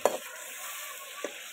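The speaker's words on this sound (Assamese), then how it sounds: "ভালকৈ লৰাই আছোঁ যাতে কেৰাহীত মছলাখিনি লাগি নধৰে।" Spices fry in oil in a wok for a mutton curry, a soft steady sizzle broken by two quick scrapes of the stirring spoon, one at the start and one near the end.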